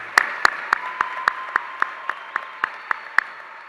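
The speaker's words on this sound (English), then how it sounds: "Let's have a round of applause for our senior band members." Sparse, evenly spaced claps ring out at a graduation commencement ceremony for senior band members, about a dozen sharp hand claps in a steady rhythm, fairly close and isolated rather than a full crowd roar.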